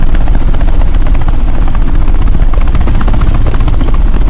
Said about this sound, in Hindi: हेलीकॉप्टर सीधे एयरपोर्ट के टारमेक पे लैंड होगा।